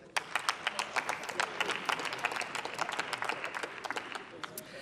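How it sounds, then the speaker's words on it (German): Scattered but steady applause rises from members in the Bundestag during a minimum wage debate, crisp claps at moderate distance with a murmur of voices beneath. "Applaus"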